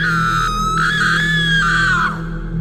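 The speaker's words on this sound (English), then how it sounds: "she would emit a blood-curdling scream before disappearing" A long, shrill female scream held at high pitch for about two seconds, loud and close, over a low background drone, standing in for the ghost at a haunted well in Japan.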